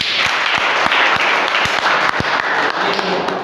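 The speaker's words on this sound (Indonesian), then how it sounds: "Kasih tepuk tangan dulu." Applause from a church congregation at a worship service held in a prison, loud dense clapping with a few sharp individual claps, and voices heard under it.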